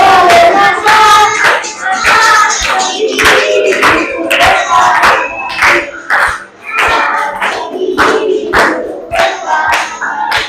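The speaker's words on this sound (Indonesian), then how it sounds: "Nah, sudah tepuk tangan ya." A classroom of children claps in rhythmic bursts of sharp, loud slaps, with excited shouts and voices mixed in, close and lively throughout.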